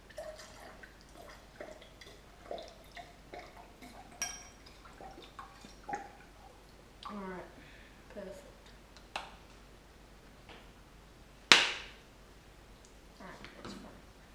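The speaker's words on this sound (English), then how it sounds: "So we're pouring in the lemon." Lemon juice being poured comes through as faint, scattered drips and small trickles, then one louder splash near the end, all quiet and close with low voices in the background.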